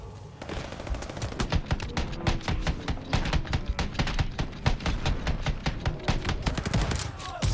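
Rapid bursts of automatic gunfire in Call of Duty Vanguard, a WWII shooter, crackling steadily for several seconds with dense overlapping shots at close range and no talk over them.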